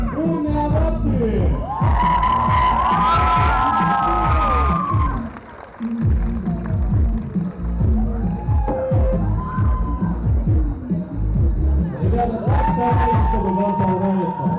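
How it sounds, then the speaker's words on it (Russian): At a guest cosplay show during Geek Summer Fest 2019, a large crowd cheers loudly, with shouts and high whoops rising in bursts over the sustained roar and a brief dip midway. "Давайте проводим их бурными аплодисментами."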